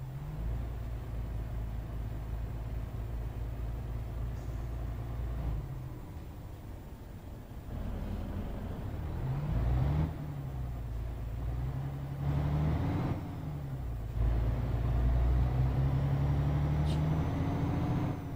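A truck in the Euro Truck Simulator video game: a low, steady engine drone that dips and swells as the truck drives and turns, loud and continuous, with no talking.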